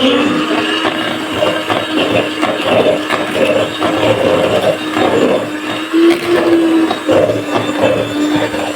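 Electric hand mixer whirring at low speed while beating vanilla cake batter, a steady, fairly loud motor drone that runs continuously with a slight pitch rise partway through.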